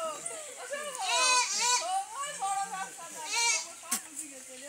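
Goats bleat repeatedly on a farm, wavering calls overlapping one another and fairly close, with people talking in the background throughout.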